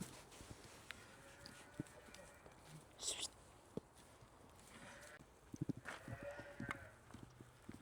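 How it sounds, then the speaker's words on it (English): Hooves of fresh dairy cows being herded in on a frigid winter morning on a dairy farm, shuffling steps and scattered clops with faint lowing and distant voices, moderately close and steady. "This morning we're bringing in these fresh cows."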